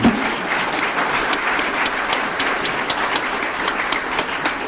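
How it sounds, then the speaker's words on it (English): An audience at a meteorology conference session on big data applauds its panel with sustained, even clapping of many hands at moderate loudness, without any voice. "Can we give them a round of applause, please?"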